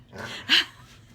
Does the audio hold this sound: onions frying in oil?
no